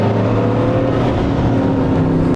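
Bugatti Chiron Super Sport accelerating at full power, a loud, steady engine roar with rising harmonic tones held close and continuous, cutting off abruptly at the end.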